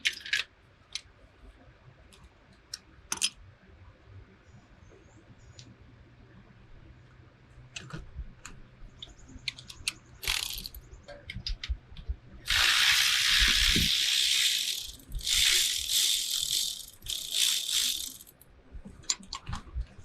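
A ratchet with a 12 mm socket works a bolt loose beside the alternator bracket of a 2007-2011 Toyota Camry during a catalytic converter replacement, giving scattered clicks and then loud, bursty stretches of rapid ratcheting close to the microphone.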